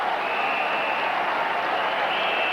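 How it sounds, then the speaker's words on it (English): Steady applause from a cricket crowd at an England versus West Indies Test match in 1991, greeting a stroke by Richards, a continuous even wash of clapping from a large distant audience. "applause from Richie Richardson, the non-striker"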